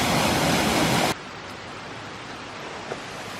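A waterfall in Northumberland National Park gives a steady, broad rushing roar. It is loud at first, then drops suddenly to a softer continuous wash.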